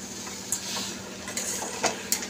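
A spatula scrapes and taps through bottle gourd curry with fried lentil bori in a pan, a few short clinks spaced over a soft steady sizzle, close and moderately quiet with no talk.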